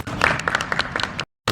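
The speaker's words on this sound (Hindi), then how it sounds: "एक दफ़ा अपने लिए तालियां ज़रूर बजाइए।" Audience applause at an influencer meetup, a dense burst of clapping close by for just over a second before cutting off into silence.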